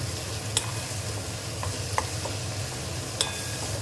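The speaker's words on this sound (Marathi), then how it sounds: "आता हे व्यवस्थित फ्राय झालं आहे चांगलं." Green chili frying in spiced oil with chili powder for a dry mackerel dish, an even sizzle under a few sharp utensil clicks, close and with no talking.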